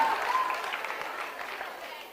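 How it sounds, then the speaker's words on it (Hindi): A studio audience claps in a sustained, fairly loud round for a contestant on a Dev Anand quiz show. No one talks over the applause. "तालियां बजाइए मैम के लिए"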